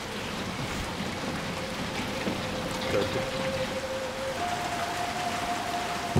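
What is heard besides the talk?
rain in the video game Little Nightmares 2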